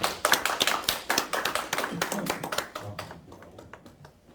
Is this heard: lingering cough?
no